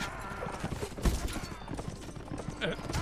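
Horse hooves clip-clop in the Mount & Blade video game, an uneven rhythm of hoofbeats under battle noise and a voice talking over it.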